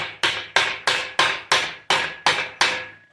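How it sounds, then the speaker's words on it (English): A hammer strikes a steel candle cup seated in a forging swage, eight sharp ringing blows at an even rhythm, each clang decaying quickly before the next, close and loud. "as I'm hammering and making things round"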